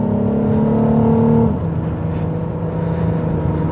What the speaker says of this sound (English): Listen to how snappy and clean those gear changes are.